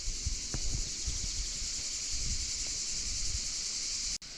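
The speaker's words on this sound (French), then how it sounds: "La descente dans la gorge se fait accompagner d'un concert de cigales." A steady, loud chorus of cicadas fills a rocky gorge near Minerve, buzzing continuously and evenly, with a few soft footsteps or knocks underneath and no talking.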